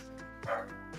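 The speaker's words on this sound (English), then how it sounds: "here goes the dog" A dog gives one short bark or yip partway through, indoors and fairly faint, over a low steady hum.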